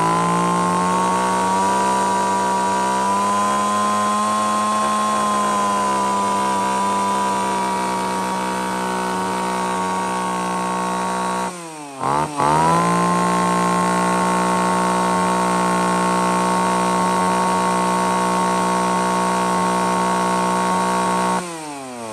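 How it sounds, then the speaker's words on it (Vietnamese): A Japanese-made chainsaw engine runs steadily and loudly at high revs for a long stretch, dips briefly as the throttle drops near the middle, then surges back to a sustained buzzing drone with a sharp rev change near the end. "em cưa máy để nhìn các bác nghe được tiếng động cơ"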